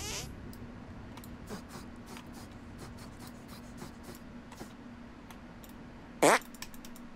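A cartoon fart from South Park: The Stick of Truth, one short loud squeaky burst near the end, after several seconds of faint game ambience with scattered small clicks.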